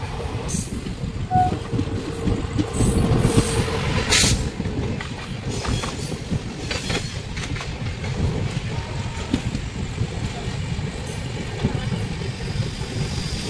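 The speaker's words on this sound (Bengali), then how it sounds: "আমাদের সাথে দেখা হবে এখন ট্রেন নাম্বার 12345 হাওড়া থেকে গুয়াহাটিগামী সরাইঘাট এক্সপ্রেস" The Saraighat Express, train 12345 from Howrah to Guwahati, rolls past as a continuous, loud rumble of wheels and carriages, with steady rattling and wind noise throughout.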